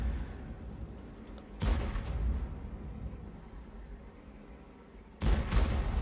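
Two heavy tank cannon shots from the TL-7 in a tank video game, each a loud close boom followed by a long rumbling decay, separated by a quiet stretch of low engine-like hum.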